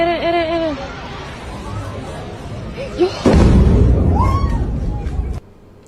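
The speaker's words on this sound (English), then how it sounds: "Some big explosions in Dubai." Large explosions in Dubai captured on a phone during wartime, with a loud low boom bursting in partway through and a sustained roar after, over a background of crowd chatter and excited voices.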